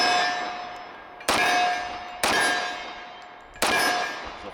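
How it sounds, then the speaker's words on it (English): A 10-round magazine swapped in a Wilson Combat X-TAC Elite Commander 1911 in .45 ACP: three sharp metallic clangs about a second apart, each ringing out before the next. "Get rid of that old magazine, go right to the new one, just like you would in real life."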